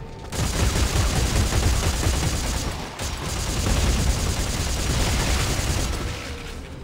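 Sustained, loud gunfire in the Dead Space 3 video game, a dense fusillade of overlapping shots and booms filling nearly seven seconds with only a brief dip midway.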